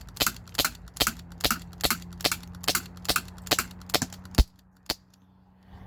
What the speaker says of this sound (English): This is the same can that I've been shooting with this black Glock 19 Gen 3 BB pistol.